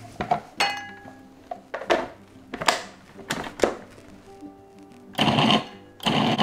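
Sugar, salt and butter-flavored Crisco being mixed in a bowl, a utensil knocking and scraping against the sides in irregular bursts, close and fairly loud, with short pauses between strokes and no talking.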